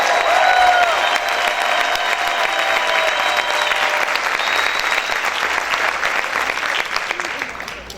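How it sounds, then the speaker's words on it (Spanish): Loud, sustained applause from a church congregation fills the space as many hands clap together, with faint voices and cheering blended in before the clapping gradually tapers. "Yo fuera usted gritar y aplaudiera fuerte al Señor."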